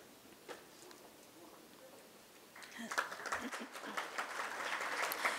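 Applause from the audience at an MOU signing for a national energy security programme at an MSME summit starts faint, then swells into steady crowd clapping for the second half, with a voice in the background.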